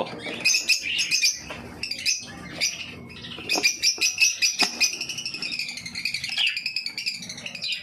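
Kauragon breeder birds in an aviary give bright, rapid chirps and trilling tweets in quick repeated bursts, fairly close and continuous, with no talking.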